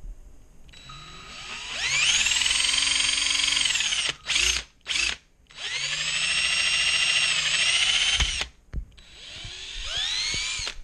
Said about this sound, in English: now you just want to drill in there